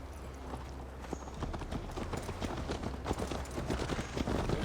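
Horses galloping in the Assassin's Creed Valhalla video game, a dense rapid clip-clop of several sets of hooves that builds louder toward the end, with faint voices in the background.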